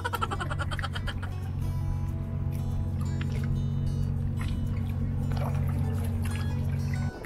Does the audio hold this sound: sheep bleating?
no